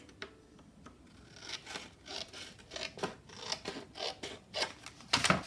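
Scissors cut leftover scrapbooking paper while trimming pages for a handmade flow journal, a series of quiet close snips and crisp slicing strokes that grow louder and quicker toward the end.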